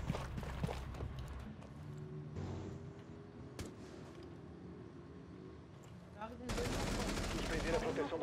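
Video game gunfire crackles in quick bursts and single shots, some close and sharp, others muffled, amid game ambience and a louder rushing burst near the end, with a player's voice talking underneath.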